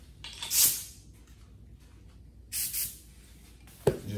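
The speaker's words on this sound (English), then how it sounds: "Just lightly mist air over top." An air blow gun releases three short hissing bursts of air over a fresh galaxy-style paint job, separated by quiet pauses, the last burst sharp and brief.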